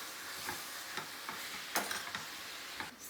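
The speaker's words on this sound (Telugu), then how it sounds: "బాగా ఫ్రై చేసుకోవాలి." Chicken with turmeric fries in a pan with a soft, steady sizzle, broken by several scraping stirs of a spatula at irregular intervals, close and fairly quiet with no talking.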